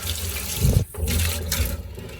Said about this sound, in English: So I just go around with a thing of hot water